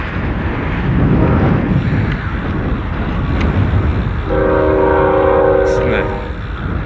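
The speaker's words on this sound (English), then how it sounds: "Train!" A train rumbles past on the Canadian prairies near Medicine Hat, its horn sounding in sustained steady blasts over the continuous loud rolling of the cars, with wind noise throughout.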